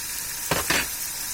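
Spice mix of coriander powder, garlic paste and salt frying in a pan for potato curry, a low constant sizzle broken by two quick spatula stirs in the middle.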